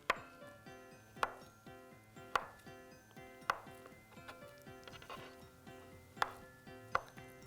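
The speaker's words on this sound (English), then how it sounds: "we're gonna take these slices, stack them, cut them into strips, and then cube it" A knife chops stacked food slices into strips and cubes on a cutting board for a rice dish, sharp rhythmic thwacks about once per second with softer cuts between, close but quiet over faint background music.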